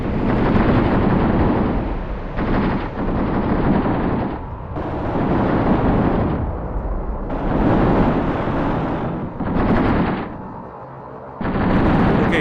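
Tank cannons firing in the Graviteam Tactics war game: a run of heavy, booming blasts, each with a long rumbling tail, repeating every second or two with short quieter gaps between them.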